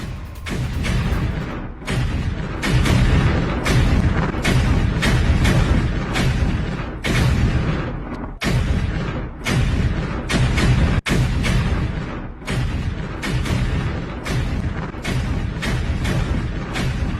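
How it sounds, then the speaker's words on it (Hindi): Loud, dense booming blasts from landmines being destroyed by an Israeli army machine in Gaza, a near-continuous series of heavy thuds and rumbles broken by a few short gaps. "इजरायली सेना ने लैंडमाइन को तबाह किया, मशीन से बारूदी सुरंगों को तबाह किया गया है।"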